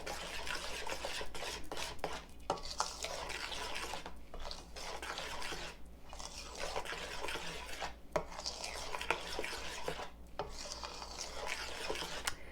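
Granola ingredients with cinnamon or apple pie spice are stirred in a bowl, a steady soft rubbing and scraping with irregular gentle strokes, close but quiet and without speech.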